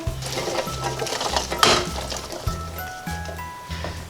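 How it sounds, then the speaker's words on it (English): Water running into a pot of fabada Asturiana with fava beans, a steady liquid fill with splashy hiss over low rhythmic background music, one louder splash midway. "We want to fill it with water until everything is covered"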